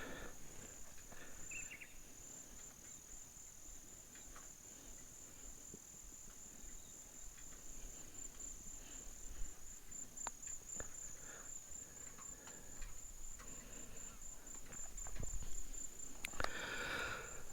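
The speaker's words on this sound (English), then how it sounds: "It is completely quiet, apart from the cicadas." Cicadas buzz in a steady, high continuous drone across remote outback bush at sunset, with faint scattered rustles and a slightly louder stir near the end, no talking.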